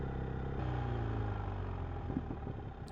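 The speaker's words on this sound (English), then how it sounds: "there's a nice little burble there as I pretty much come to a standstill" A BMW R1250R motorcycle with an aftermarket exhaust rumbling low and steady as it slows almost to a standstill, with a soft irregular burble from the exhaust near the end.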